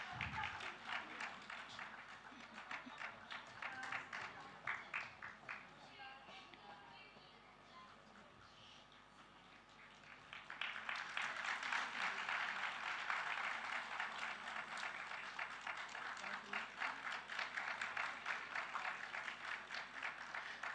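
Audience applause at a school's 20th Founders' Day award ceremony, a long stretch of dense clapping that dips briefly in the middle, then swells louder and carries on steadily.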